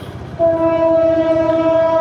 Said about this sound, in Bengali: ও ট্রেন যাচ্ছে